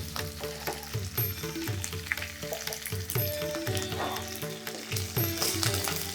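Cumin seeds, curry leaves and dried chillies sizzle steadily in hot oil, a continuous close frying crackle with faint stirring clicks and no talk.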